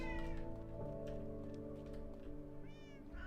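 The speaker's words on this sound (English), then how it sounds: "Minecraft cat." A Minecraft cat meows in the game, with a couple of short calls, one near the start and another near the end, sounding over a steady tonal game background with no speech.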